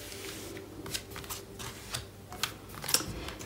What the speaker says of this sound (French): Et on va placer 5 cartes.